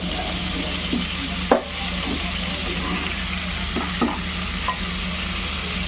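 Prawns shallow-frying in oil in a pan, a steady close sizzle with a low hum beneath and a few sharp scraping stirs of a utensil.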